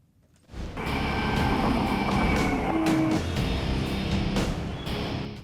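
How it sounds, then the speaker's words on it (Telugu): A metro train passes in the Kompally area of Hyderabad, a steady rumbling roar with a whining tone that starts abruptly, holds for several seconds, then eases slightly, with no talking. "metro rail, MMTS,"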